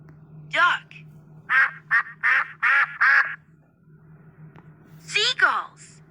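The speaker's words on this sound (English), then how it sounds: "Duck." A duck quacks close and loud: one quack, then four evenly spaced quacks in quick succession, and a final raspy quack after a short gap, over a faint low hum.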